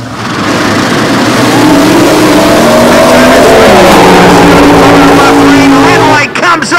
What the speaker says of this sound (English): Fixing to have a good drag race here.